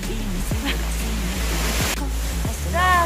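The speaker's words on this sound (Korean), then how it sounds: "야, 드디어 유한폭포에 왔다." Yuhan Waterfall on Jirisan mountain pours with a constant broad rush of falling water close at hand, while hikers speak briefly over it.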